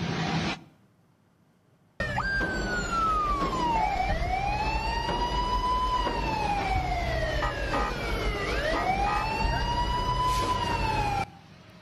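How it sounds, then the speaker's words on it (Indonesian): A civilian minibus fitted with an illegal siren and strobe lights wails loudly and close by, its tone sweeping up and down in long continuous cycles for about ten seconds after a brief quiet gap, with traffic rumble underneath. "menghadang sebuah minibus yang menggunakan sirine dan strobo"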